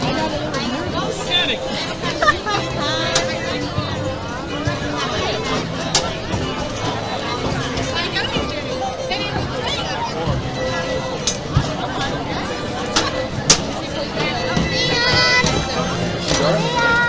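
Steady crowd chatter and babble fill the stands at a high school football game between Williamstown Braves and Delsea Crusaders, a continuous hubbub of many voices with children's shouts and occasional sharp knocks rising above it.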